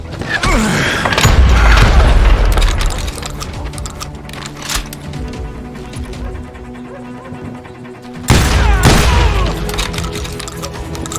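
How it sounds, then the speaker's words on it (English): Street shootout in the video game Call of Juarez Gunslinger: dense volleys of gunfire crackle and boom, easing off in the middle before a heavy burst returns near the end. "They're shooting in the street!"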